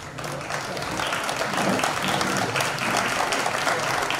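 An audience at an Urdu book launch ceremony welcomes author Hashim Khan with steady, dense applause from a full hall, continuous and even throughout, with faint voices mixed in.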